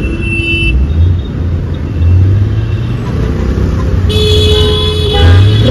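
Road traffic jammed at a closed signal in India, engines idling and rumbling nearby with short car horn toots breaking through, while someone talks over the din.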